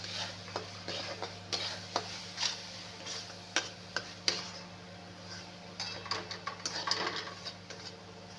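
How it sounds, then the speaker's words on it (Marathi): Homemade masala sautéed in a pan for a chicken dish, stirred with a utensil that taps and scrapes the metal in quick, irregular clicks over a soft sizzle and a steady hum, close and fairly quiet. "छान असा आपला मसाला परतून घ्यायचा आहे"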